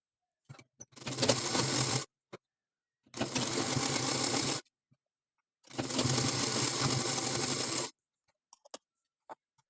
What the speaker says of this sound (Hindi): मार्जिन को हमें दबाते हुए सिलाई लगाकर अटैच कर लेना है लेस को